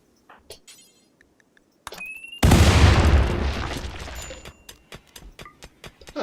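A bomb detonates in RimWorld with a sudden loud blast that rumbles and fades over a couple of seconds, framed by faint clicks and small interface ticks before and after.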